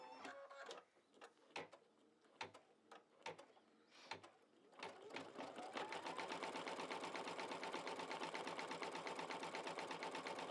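A sewing machine stitches a mug rug design in white thread. A few separate clicks and short bursts come first, then a steady, fast, continuous stitching hum runs close and loud to the end.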